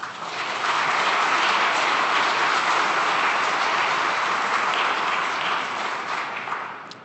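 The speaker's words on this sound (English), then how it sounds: "so feel free to clap away" An audience at a formal event applauds an introduced guest with steady, dense clapping that swells quickly, holds for several seconds, then tapers off near the end.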